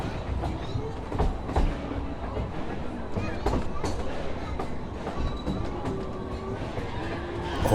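A Halloween ride train rolls along the rails with rhythmic clickety-clack wheel beats and rumble, moderately near, while faint voices murmur underneath.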